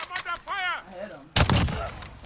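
Video game gunfire erupts in a loud, close burst in the second half, after a stretch of speech-like sound at the start.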